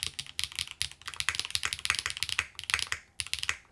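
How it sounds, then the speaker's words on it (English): Fast, continuous typing on a Glitter65 L01 mechanical keyboard fitted with Yogurt switches, a dense run of sharp, clacky keystrokes heard close up and fairly loud, with a couple of brief pauses and no talking. "I actually think this is a pretty loud board, even with these yogurts."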